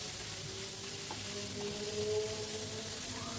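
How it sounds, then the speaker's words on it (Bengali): Bitter gourd and mashed fish being stirred constantly in a pan over a high gas flame produce a continuous close sizzle and hiss, with soft scraping movements and no voices. "এবার স্ম্যাশ করা মাছটা দিয়ে দিলাম, দিয়ে সব কিছু ভালো করে মিশিয়ে নিচ্ছি"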